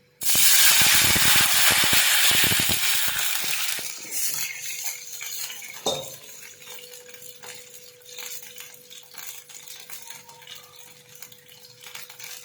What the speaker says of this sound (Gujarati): હવે આપણે પાણીનો વઘાર કરી લઈશું